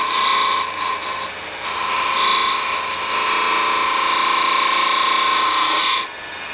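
A lathe parting tool shaves a wooden box lid to loosen its tight friction fit, a steady high whine with a brief dip partway, then the cut stops abruptly near the end.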